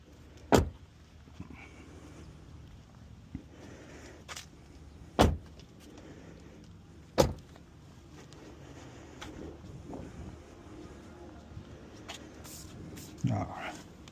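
Doors of a 2021 Tesla Model 3 shut during a 12-volt battery replacement, giving several sharp, separate thuds spread across the stretch with quiet gaps between them. Faint background noise fills the pauses.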